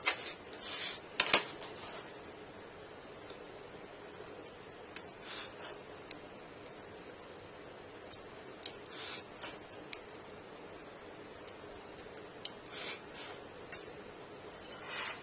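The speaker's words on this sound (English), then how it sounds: "while I have the ruler in place, I can go ahead and make the cut" A blade scoring along a ruler while building a model airport dual jetway: faint, sparse scratchy strokes and clicks scattered through a quiet stretch, with a sharper burst of cutting sounds early on.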